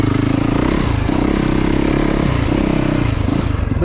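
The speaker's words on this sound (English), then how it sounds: "But thanks Yamaha for the opportunity to ride this. YZ450FX." A 2021 Yamaha YZ450FX dirt bike engine runs loud and close at Crow Canyon, holding a steady, rough rumble with slight rises and dips in revs throughout.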